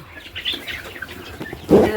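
Native country chickens kept for sale cluck and chirp in short, uneven calls, with a louder, fuller squawk near the end.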